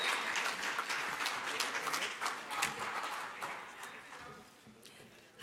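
An audience at a technology summit applauds in a sustained burst of dense clapping that gradually thins out toward the end, with voices talking over it.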